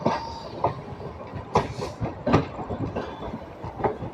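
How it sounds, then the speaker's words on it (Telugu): The Delhi–Hyderabad Telangana Express passes on the outskirts of Secunderabad, hauled by a WAP-7 electric locomotive. Its wheels make a rhythmic clickety-clack over rail joints, moderately near and steady, with sharp periodic clanks and no voices. "చూద్దాం, Lalaguda వ్యాప్ 7తో. Yes, Telangana express. Delhi Hyderabad Telangana express."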